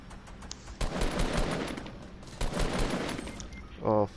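Rapid bursts of enemy gunfire in a video game, two dense volleys loud and close with a brief gap between them, followed by a short sharp tonal blip at the end.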